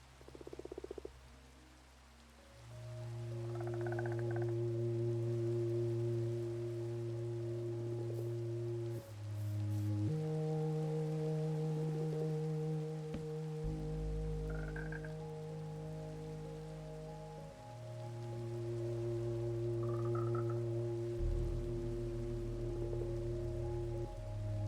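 Minecraft rain falling steadily throughout with a continuous soft patter, alongside repeated low croaking and chirping notes and a calm background tone.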